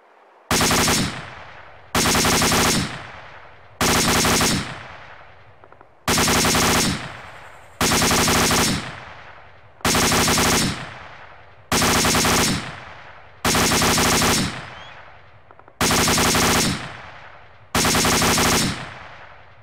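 Ten evenly spaced machine gun bursts of area fire rake a linear target, each loud burst about a second long with sharp reports and short pauses between.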